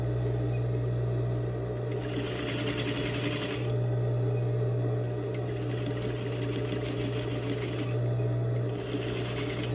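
A sewing machine runs in steady bursts while understitching the facing of a tote bag, its rapid mechanical whirr close and continuous with brief slowdowns between runs.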